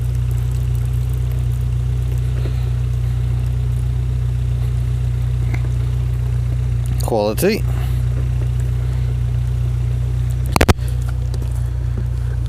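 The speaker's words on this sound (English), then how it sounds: "I'm just running the engine just to charge everything up" A steady low engine hum from an idling CityRover, with a brief spoken word and a sharp knock near the end.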